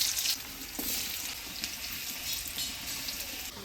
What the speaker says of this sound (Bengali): এবার এই তেলের মধ্যেই আলু, বেগুন, মিষ্টি কুমড়া ভেজে নেব